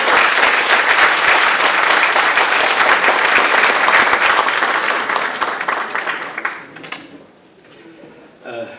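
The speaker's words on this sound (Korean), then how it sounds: "박수로 맞아주시기 바랍니다" Loud, dense audience applause welcoming a speaker at a political party unity committee launch ceremony, steady clapping from a large crowd that fades out near the end.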